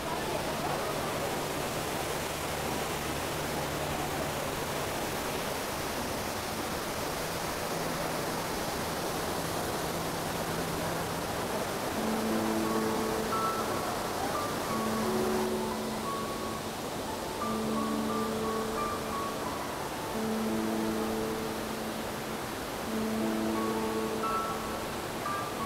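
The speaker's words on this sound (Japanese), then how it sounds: "じゃあ滝のとこに来たけど、あれ凍ってねえな上の方は凍ってる感じかな" Fukuroda waterfall in winter, partly frozen near the top, giving a steady broad rushing roar throughout, with faint tonal background music in the second half.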